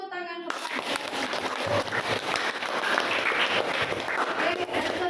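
Applause from a class of students for a student group presenting on the digestive system, steady and fairly loud across the room, with children's voices chattering underneath after a brief spoken lead-in.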